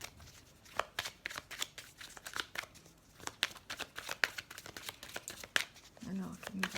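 Oracle cards are shuffled in quick, crisp riffling bursts, near and fairly quiet, while someone talks throughout.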